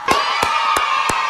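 Clapping and cheering effect with four sharp, evenly spaced claps ringing over a bright, sustained crowd cheer, loud and close throughout.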